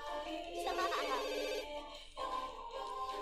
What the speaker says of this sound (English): When do you answer the phone?